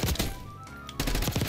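Rapid automatic gunfire from the video game Black Ops 6, a loud close burst of shots that breaks off briefly and then resumes in another dense burst.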